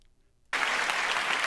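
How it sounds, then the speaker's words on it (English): An audience breaks into sudden clapping after a half-second of near silence, the applause staying loud, dense and steady to the end. "The whole audience is clapping for her too."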